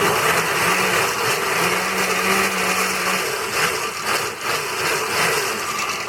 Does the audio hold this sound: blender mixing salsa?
yes